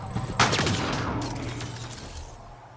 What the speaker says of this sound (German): Ein Scharfschütze.